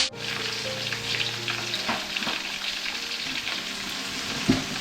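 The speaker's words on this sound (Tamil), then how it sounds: "நெக்ஸ்ட் அது கூட கட் பண்ண வெங்காயம் 4." Sliced onions sizzling in ghee with bay leaves, cinnamon, star anise, cloves and cardamom for chicken biryani, a steady close frying crackle with light stirring scrapes and no talk.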